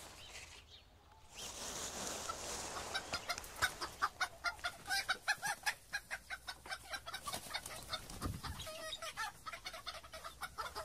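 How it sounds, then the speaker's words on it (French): Hens in a permaculture farm greenhouse cluck steadily in a rapid, rhythmic series of close, soft calls, with one low thump partway through. "On nourrit les poules gratuitement"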